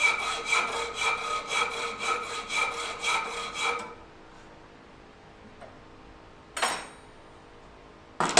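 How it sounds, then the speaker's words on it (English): Wood being sanded flush on a sanding center for a Sharpie marking gauge, a steady rhythmic rasping with repeated strokes for about four seconds, then quiet with a couple of brief clunks. "and then we'll sand it flush at the sanding center"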